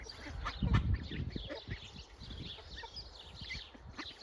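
Ducklings in a garden quack and peep in a busy, uneven chatter close by, with a louder burst of quacking early on and steady softer calls afterward.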